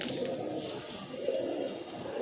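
Imported Pakistani-breed pigeons in a loft, with a low, continuous murmur of cooing and rustling close by, no voices.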